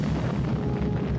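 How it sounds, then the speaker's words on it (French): A massive comet-impact explosion sounds as a continuous, dense, roaring rumble with heavy low end, sustained at steady loudness throughout. "L'impact entraîne une explosion à radiation thermique dans toute la ville."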